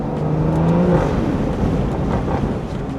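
Stage 2 tuned BMW 340i with a B58 engine downshifting, a loud close engine note with a steady rumble that drops in pitch partway through, with wind noise throughout.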